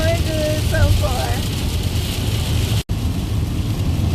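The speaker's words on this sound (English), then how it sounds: "Y'all, look at this rain. This is crazy. This rain is ridiculous." Heavy rain pours steadily as broadband hiss, with a brief dropout near the end and faint whistling tones early on.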